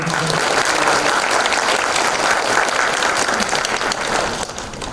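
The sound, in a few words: applause of encouragement and thanks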